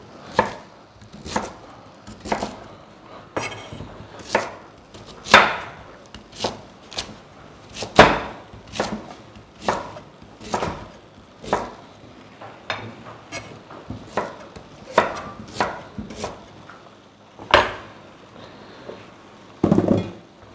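A knife chops vegetables for potato and mixed vegetable porridge, a steady run of sharp, close taps on a cutting board, some evenly spaced and some in quick pairs.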